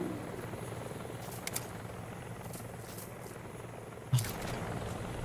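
A helicopter in the video game Metal Gear Solid Delta makes a low, steady rotor rumble with faint high whooshes, and a sharp thump near the end.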